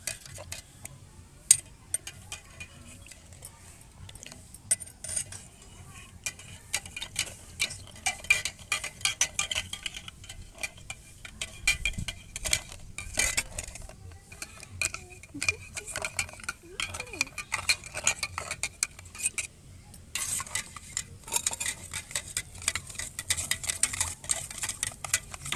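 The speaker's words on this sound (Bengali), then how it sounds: "এবার আমি এটাকে গুলিয়ে নেবো ভালো করে।" A juice drink being stirred to mix it, a utensil clinking and scraping against the container in irregular taps and swirls, close and fairly quiet, with occasional talk in the background.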